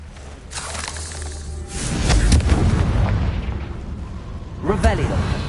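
A Confringo fire spell exploding in the video game Hogwarts Legacy, a loud booming blast that swells and rumbles for a few seconds, followed by a shorter burst, with a voice speaking over it.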